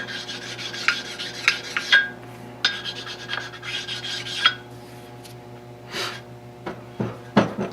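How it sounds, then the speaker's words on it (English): Carborundum stone rubbed back and forth over the ways of a surface grinder during reassembly to knock off burrs, a close, dry rasping scrape in repeated strokes with brief pauses and a few sharp clicks. "take a carborundum stone and just go over the ways here a little bit, make sure there's no burrs"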